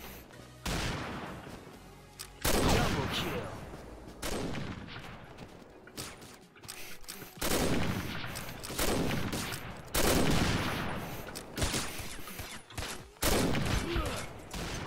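Rapid bursts of gunfire from the online shooter game Combat Arms rattle out repeatedly in dense volleys with brief gaps, loud and continuous, with a few spoken words in between.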